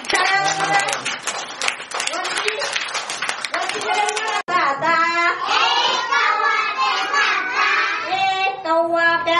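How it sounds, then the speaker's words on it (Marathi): A group of young children claps hands in quick, rhythmic bursts while chanting in a classroom, then the claps fade as the children keep singing together loudly. "टाळ्या वाजवा."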